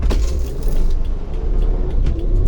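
Car reversing slowly through a housing estate, its engine a steady close low rumble that fills the whole stretch without a break, with faint rattles on top and no voices.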